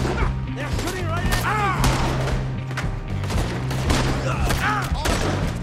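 Enemy guards fire volleys of gunshots in Red Dead Redemption 2, dense and loud, with overlapping cracks and thuds. Shouting voices and game music play underneath the shots throughout.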